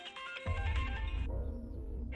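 A melodic phone ringtone plays steadily over a low rumble, continuing for a couple of seconds with no voices.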